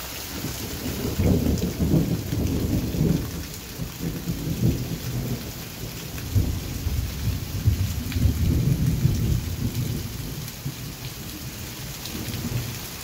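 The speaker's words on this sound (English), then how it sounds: "Another Thunder and Lightning with this storm" Thunder rumbles repeatedly over steady rain during a late-July summer storm, the low booming rolls rising and fading across the clip while the downpour hisses continuously, fairly close and with no voices.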